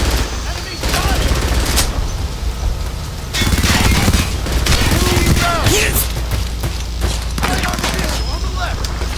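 Heavy, continuous battlefield gunfire from the video game Frontlines Fuel of War, dense overlapping rifle and machine-gun bursts with booms, loud and close, with voices calling out over the din.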